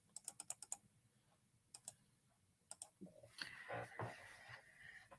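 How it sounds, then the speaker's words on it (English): Quick bursts of clicking keystrokes on a computer keyboard, close and quiet, come in short runs with pauses, then give way to a brief spell of rustling and shuffling. "I'm typing for no reason."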